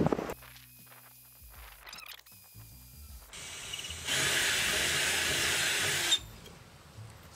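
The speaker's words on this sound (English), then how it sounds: "from the other side I can properly drill out to 3/8." A power drill bores through a steel C-channel and plate on a solar trailer swivel, starting with clatter and handling noise, then a steady, loud whirring grind that runs for a few seconds before stopping.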